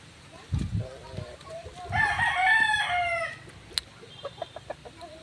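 In a backyard, a rooster crows clearly in the middle, with scattered chicken clucks and soft background sounds around it, moderately close.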